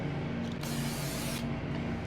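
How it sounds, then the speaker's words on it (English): Brake cleaner sprayed onto a new oily brake rotor of a 4th-generation Toyota 4Runner, one loud, close hissing burst of about a second over a steady low mechanical hum. "The rotor, I'm going to clean with brake cleaner."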